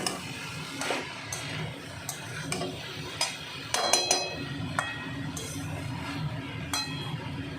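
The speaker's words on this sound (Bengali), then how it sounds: "আবার একটু নেড়ে চেড়ে নেব।" A spoon stirs banana flower curry with salt in a pan, giving repeated scraping strokes and clinks against the metal at an uneven rhythm, close and alone.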